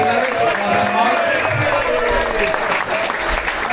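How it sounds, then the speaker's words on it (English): Applause at a cod fishing competition prize giving at a yacht club in Cardiff Bay, a steady round of clapping from an indoor crowd, loud and continuous, with voices talking over it. "That's a popular clap."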